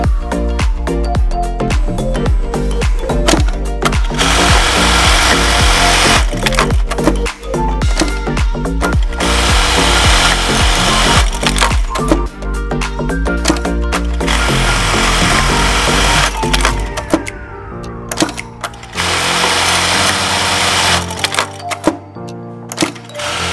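Electronic direct-drive lockstitch buttonhole sewing machine, the NT-781 with AC servo control, running in rapid mechanical bursts of stitching. Short pauses separate the bursts, and a tonal hum runs underneath.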